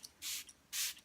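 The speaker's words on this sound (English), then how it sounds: "this beautiful rose spray" Rose spray hissing from a spray bottle in two short, distinct bursts close by, with a faint tap between them and quiet in between.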